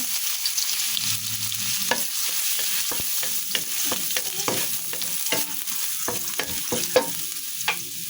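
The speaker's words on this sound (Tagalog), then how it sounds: "ilagay na natin yung ating bawang" Garlic frying in a pan, with a continuous sizzle broken by a run of sharp scraping clicks as it is stirred, each stroke close and distinct, and no talking.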